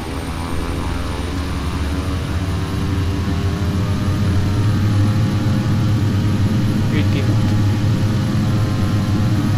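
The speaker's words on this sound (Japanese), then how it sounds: "はい、フルスロットル行きましょう。" King Air twin-engine plane in Flight Simulator X at full throttle, a loud, steady, droning propeller and engine roar holding constant throughout without a break.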